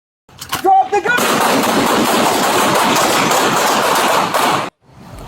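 Rapid gunfire during a police standoff at a house on Southeast 54th Street, a sustained loud burst of shots after a few sharp cracks and brief tones, cutting off abruptly near the end.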